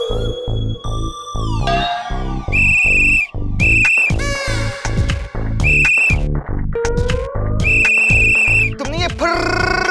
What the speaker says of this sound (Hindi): तुमने ये फर्र वाली सीटी कैसे बजाई?